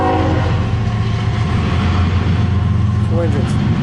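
A westbound CSX Q137 freight train rumbles past at Fostoria, Ohio, loud and close with a heavy low roar, and a brief warbling tone shows near the end.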